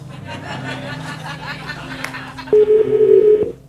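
A telephone dials a number in Russia, a run of keypad tones giving way to a loud, sustained tone near the end, with faint chuckling in the background.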